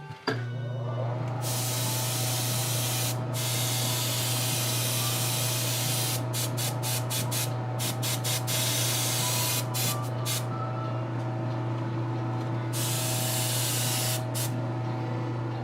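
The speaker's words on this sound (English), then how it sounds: "So I gotta spray it further away and not overdo it." A spray can of white paint hisses continuously in long bursts with brief pauses, close and fairly loud, over a steady background hum.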